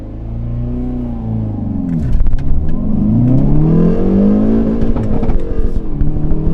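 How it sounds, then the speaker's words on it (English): A Hyundai Veloster N accelerates hard along a flat road, its engine note rumbling low then climbing through rising revs after a brief shift, loud and close from inside the car. "This is where I normally do my 0 to 60 runs."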